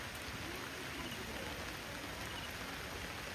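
Steady rain pours at a campsite in Tuy, Batangas during a typhoon, a dense, even hiss of drops on surfaces that runs unbroken and fairly soft throughout.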